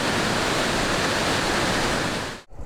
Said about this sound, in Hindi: पीर पंजाल से आने वाले खौफनाक पानी नज़र आ रहे हैं।